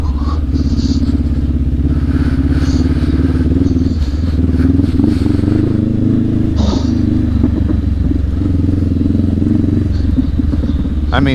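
A KTM 390 Adventure or Honda CB500X motorcycle ridden along an Oregon dirt trail, its engine droning loud and steady with rough, clattering rumble and brief surges, close to the rider throughout.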